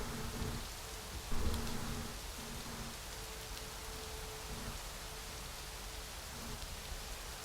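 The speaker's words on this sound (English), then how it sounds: "Foggy, cloudy and raining." Rain falling in the video game Rising World, a steady broadband hiss of rainfall throughout with a faint low hum beneath and one brief louder patter near the start, no talking.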